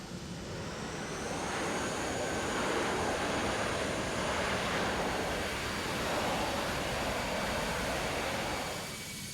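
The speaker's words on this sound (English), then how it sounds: "Then come reversers." Airbus A319 thrust reversers roaring in the X-Plane 12 flight simulator, a loud steady broadband rush that swells and holds through the landing rollout, with no talk over it.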